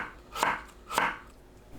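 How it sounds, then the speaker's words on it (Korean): Two crisp knife cuts through cucumber against a cutting board, evenly spaced about half a second apart, close and fairly quiet. "얇게 어슷 썰어줍니다."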